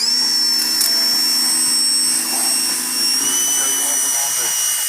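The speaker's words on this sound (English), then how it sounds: "So now what we're going to do is we're going to pressure wash." A pressure washer running during a rattle-can restoration job, a loud, steady, high-pitched motor whine and water hiss that holds without a break throughout.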